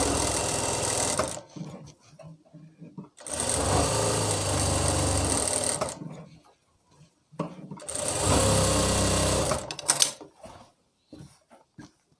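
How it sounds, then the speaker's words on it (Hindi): A sewing machine stitches the open pocket sections of palazzo pants in three loud, steady runs of rapid whirring, separated by quieter pauses with small clicks and handling. "और जो हमारे पॉकेट वाले हिस्से दोनों खुले हैं इनकी भी हम सिलाई कर लेंगे"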